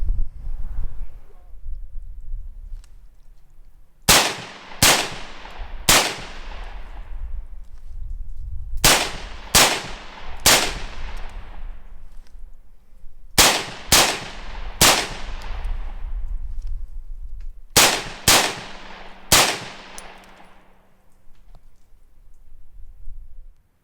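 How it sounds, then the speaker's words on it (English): Rifle shots from a PTR 601 at an outdoor range crack out in spaced groups of two or three, sharp and loud with ringing tails, over a light wind rumble. "I'm going to try a little more shooting and see if I've got the sight sorted out."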